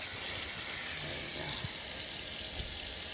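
Tap water runs steadily into a kitchen sink while turnip greens are washed, a constant hissing stream with a few faint clunks and knocks of handling, close by and without talk.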